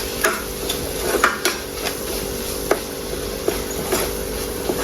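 Ground spices being stirred in a pan for crab curry, with soft scraping taps of a spoon against the pan at a steady irregular pace over a constant sizzle-like hiss, without talking.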